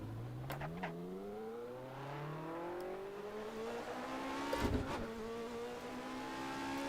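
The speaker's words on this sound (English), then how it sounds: "The sound effects of this car is definitely not balanced correctly." A Mazda MX-5 engine in the Assetto Corsa racing game revs and climbs through the gears while racing at Hampton Downs, its rising whine punctuated by a brief impact bump.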